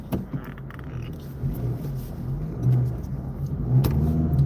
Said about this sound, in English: God, it's like everywhere I go, there's a line of cars.